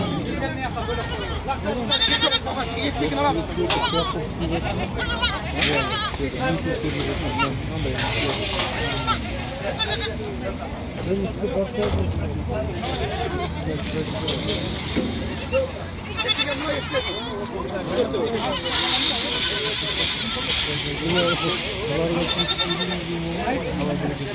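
Several goats bleat at intervals at a goat show in Shymkent, some calls loud and close, others farther off, while people talk almost continuously around them.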